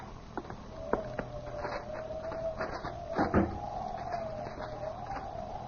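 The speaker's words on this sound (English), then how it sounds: "Here's the door, Mr. Hanson." A door opens as a sound effect in a 1947 radio drama, with a few sharp knocks and clicks, a long creaky sliding tone and a heavier thump midway, moderately quiet and close.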